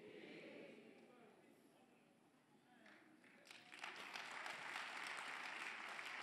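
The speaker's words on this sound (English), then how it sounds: "I'm happy now that you are clapping" A church congregation claps during a sermon: after quieter murmuring and a few scattered claps, a fuller round of applause swells in and continues steadily, faint and somewhat distant overall.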